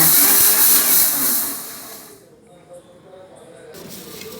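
A kitchen mixer grinder whirs loudly as it pulses roasted coriander seeds with cardamom pods, then cuts out into near silence before a brief restart.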